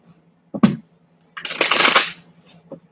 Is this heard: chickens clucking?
no